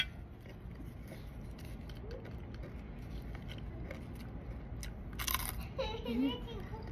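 Crunchy food being chewed up close during a mukbang, with crisp bites and crackles rising toward the end over a steady background hum and brief voice sounds.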